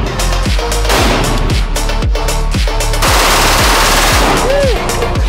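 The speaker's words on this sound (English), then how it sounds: "Glock 18." A full-auto Glock 18 pistol rips through rapid bursts of gunfire, each shot a sharp, loud crack in quick rhythmic succession, close and dominating, with a brief shell-casing ring near the end.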